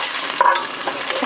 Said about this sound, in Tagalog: So, gigisa muna natin yung ating luya.